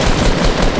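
Rapid, dense gunfire from a sniper rifle in the video game Fortnite, a loud sustained burst of shots filling the whole moment with no talk over it.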